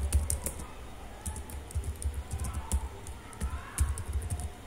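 Fingers type on a computer keyboard while entering notebook text: rapid, uneven clicking keystrokes in bursts, close and steady, over a faint background hum.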